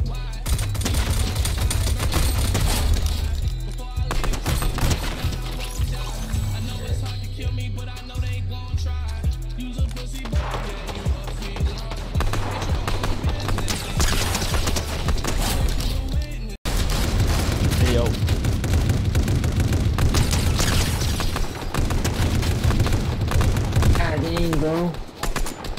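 Rapid automatic gunfire from a gun in the video game Fortnite, loud and dense, crackling in bursts over a throbbing low game soundtrack, with speech mixed in.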